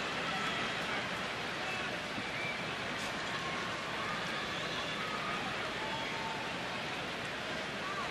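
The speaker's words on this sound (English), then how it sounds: "There's the rain coming down." Rain falls steadily during a minor-league baseball game, a soft, continuous hiss of drops spread evenly throughout, fairly faint and distant-sounding with no clear voices on top.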